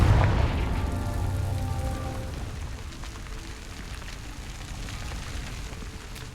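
A Confringo blasting spell detonates in Hogwarts Legacy with a loud deep boom up front, followed by a rumbling, crackling tail of debris that slowly fades.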